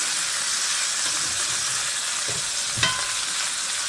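Pork chops sizzling in a frying pan, a loud constant hiss of fat close by, with a brief clunk or scrape near the end and no talking.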